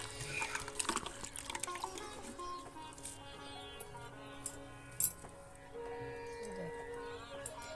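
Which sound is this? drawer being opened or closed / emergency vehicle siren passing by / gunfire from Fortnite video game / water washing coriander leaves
water washing coriander leaves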